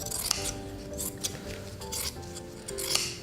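Scissors cutting a single layer of felt for a craft project, with faint repeated snipping and rubbing clicks at an even pace, close and quiet, no talk.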